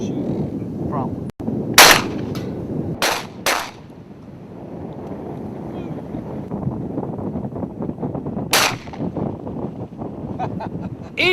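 Shotguns fire during an outdoor wing shoot, with several sharp, loud reports scattered across the clip against wind buffeting and a low rumble of background noise.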